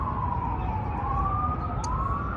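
An emergency vehicle siren wails outside, a rising and falling tone heard at a moderate distance through a quiet room with low background rumble and no talking.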